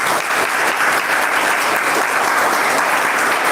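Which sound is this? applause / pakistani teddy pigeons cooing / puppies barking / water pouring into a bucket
applause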